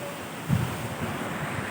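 Steady typhoon wind roaring across the microphone in Masbate, Philippines, with a broad rushing noise, a brief stronger gust near the start, no voices.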